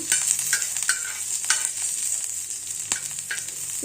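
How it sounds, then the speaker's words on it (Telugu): Steady hiss of hot oil with quick crackling pops as spices, curry leaves and green chillies sizzle while tempering, a few louder bursts standing out, close and continuous with no talking. "మంచి చిటపట్లు అనివ్వండి"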